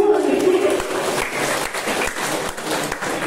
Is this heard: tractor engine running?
no